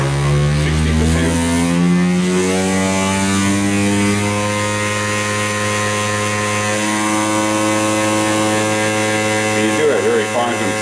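A Banggood DC motor runs under a speed controller with a continuous close hum whose pitch rises steadily over the span, as if the speed is being stepped up.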